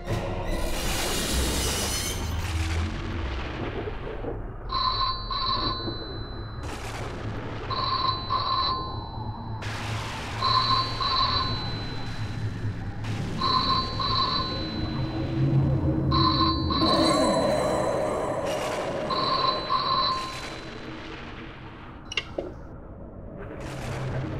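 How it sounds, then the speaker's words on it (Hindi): A telephone rings at night in a horror drama, repeated double rings about every few seconds, clear and fairly loud over a low, droning background. "लगता है फोन की घंटी बज रही है।"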